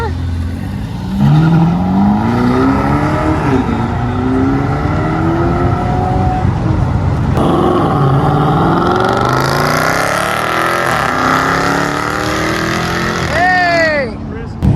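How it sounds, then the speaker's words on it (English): A Ferrari California supercar accelerates hard at a supercar meetup, its loud engine revving and rising through the gears as it passes close by. Onlookers cheer and shout over the engine, and a tire chirp comes near the end. "Come on, Ferrari, California."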